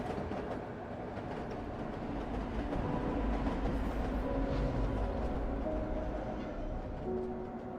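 Train running in the video game Eden Crafters, a steady rolling rumble with faint rhythmic clatter and shifting tonal hums that stay even and moderately loud throughout.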